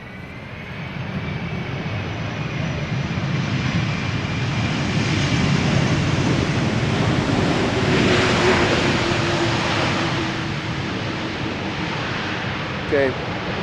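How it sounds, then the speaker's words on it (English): A Delta Air Lines flight from Detroit lands on Schiphol's Polderbaan runway, its engine roar building into a broad rushing swell midway and then easing off, with wind noise and no one talking. "Delta Airlines Flight 136 arriving from Detroit up next"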